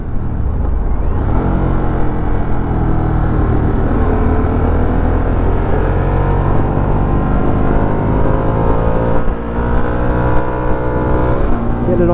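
A 2022 Harley-Davidson Sportster S on a demo ride at Daytona Bike Week roars loudly and close as it accelerates, its engine note climbing steadily through the gears over constant rumble and wind.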